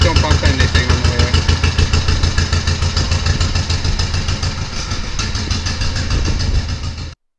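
A tractor engine runs close by with a loud, steady, throbbing chug that holds an even rhythm, then cuts off abruptly at the end.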